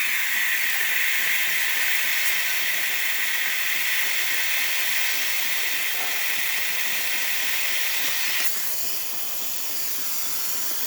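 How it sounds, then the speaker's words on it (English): Breville espresso machine steam wand hissing steadily and loudly for about eight seconds, then the hiss drops a little and carries on at a slightly lower, thinner level. "You can hear the steamer is definitely working."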